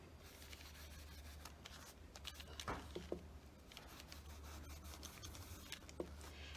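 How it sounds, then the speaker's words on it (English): Card is distressed for a creative journal with quick, soft rubbing and scraping strokes, faint and close, in short irregular bursts. "we will quickly do our first thing, which is distressing our card"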